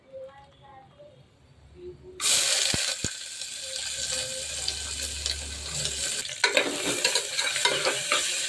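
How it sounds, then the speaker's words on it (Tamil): Chopped onions drop into a hot pan for beetroot biryani and burst into a loud, steady sizzle that runs to the end, with a couple of sharp knocks and scraping stirs; faint talk is heard before the onions go in. "வெங்காயம் ஒரு 2 நிமிஷம் வதங்கட்டும்."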